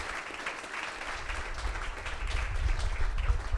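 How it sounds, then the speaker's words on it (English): An audience at a Los Angeles panel discussion on public space claps for the panelists in a steady, moderately loud round that swells slightly toward the end, with no talk over it. "Can we just have a round of applause for our panelists"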